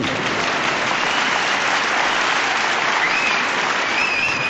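Theater audience applauding a humorist's live stage show, a loud, dense, sustained burst of many hands clapping close up, unbroken and even across the whole stretch.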